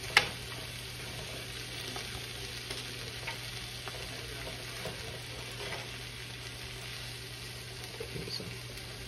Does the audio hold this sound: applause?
no